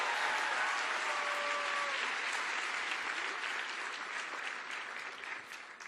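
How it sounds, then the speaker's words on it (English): Sustained audience applause in a hall at a national pro-life summit, dense and loud clapping from a large crowd that slowly fades over several seconds, with a few whistles early on. "Everyone give Will a round of applause"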